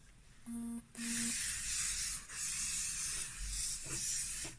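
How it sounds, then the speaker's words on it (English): An aerosol can sprays in several long hissing bursts separated by short pauses, close by, after a brief electronic beep. "Give it a good spray all over."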